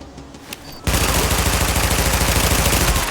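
Gunfire in a shooting video game: after a quiet, muffled opening, a sudden loud burst of rapid automatic shots rattles on steadily to the end.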